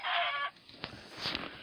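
Chicken clucking in Minecraft, a short burst of harmonic clucks near the start followed by softer, faint clucks and light game sounds, with no talking.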